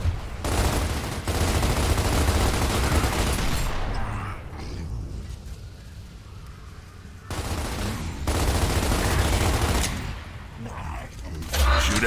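Bursts of heavy gunfire blast propane tanks in Gears of War, loud sustained volleys broken by brief lulls with rumbling booms underneath, amid battlefield noise.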